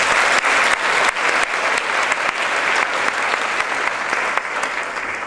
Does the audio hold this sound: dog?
no